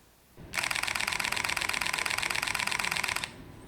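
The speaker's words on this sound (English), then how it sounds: "It shoots at 8 frames per second with a mechanical shutter, and here's how that sounds." A rapid burst of mechanical camera shutter clicks from a Fujifilm X-T2 at 8 frames per second, steady and evenly spaced for about three seconds, loud and close, then it stops.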